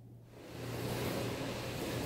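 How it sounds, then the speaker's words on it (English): A home dishwasher runs with a faint, steady rushing hum that rises after a short quiet start and holds evenly throughout. "Sorry for the noise. That is my dishwasher"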